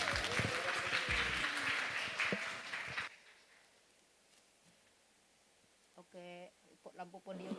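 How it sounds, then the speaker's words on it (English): Audience applause for speaker Dr. Jun-E Tan at a talk on humanity and AI rises as busy clapping for about three seconds, then cuts to a quiet hiss before a voice starts speaking. "please give a round of applause for Dr."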